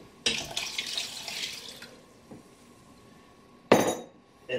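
Water runs from a tap for about two seconds, a steady broadband rush, followed by a short, louder splash of water hitting a metal pot holding rice.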